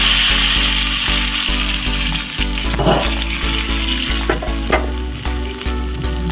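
Dried red chilli and curry leaves crackle as they temper in hot oil, a steady hissing sizzle running the whole time beneath continuous background music with shifting low notes.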